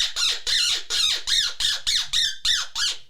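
A split reed blown with a rattling tongue mimics a bird's choppy, rattled squeak: nine sharp, loud, evenly spaced bursts heard up close, each a buzzy trilling squawk, with no talk.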